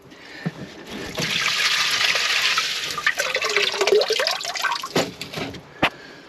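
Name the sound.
water and silt swished in a koi pond filter, draining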